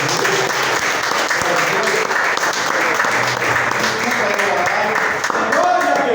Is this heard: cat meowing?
no